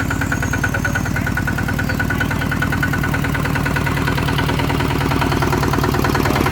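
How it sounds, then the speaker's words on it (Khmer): A Kubota two-wheel tractor engine, rated 155, running steadily nearby with a loud, even chugging throb and no break. "ម៉ាស៊ីនធំបាទម៉ាស៊ីនដល់ទៅ 155បាទកម្លាំងខ្លាំងមែនទែន"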